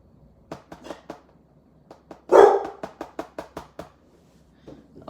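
A dog barks in a quick series of sharp, fairly close barks indoors, with a louder burst in the middle followed by several evenly spaced yips, then quiet.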